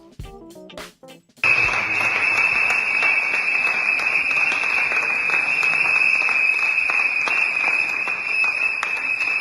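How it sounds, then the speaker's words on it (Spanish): Workers of the ATE union protest in the corridors of the Casa Rosada with loud, sustained applause and a steady shrill whistle blowing continuously, after a brief muffled start. "Hay aplausos y silbatos en los pasillos de la Casa Rosada de los trabajadores de ATE"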